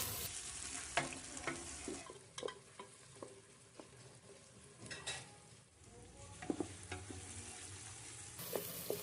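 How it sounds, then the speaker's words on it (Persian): Three finely chopped onions and four garlic cloves sauté in oil in a pressure cooker, giving a faint, steady sizzle broken by soft clicks and scrapes of stirring. "پیاز را برای 1 دقیقه تفت بدیم"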